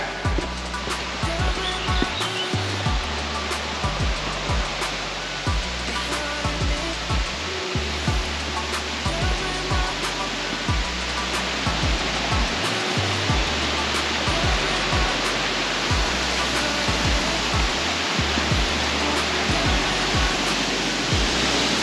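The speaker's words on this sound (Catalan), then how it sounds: "aquí hi ha un salt d'aigua" Steady, loud roar of a waterfall on a stream along a hiking trail in a natural park on São Miguel in the Azores, a dense continuous rush of falling water close by with no break.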